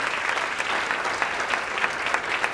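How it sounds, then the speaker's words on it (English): Steady applause from a school audience of parents at a high school senior awards night, dense continuous clapping filling the room without pause. "parents can give them applause for the job well done"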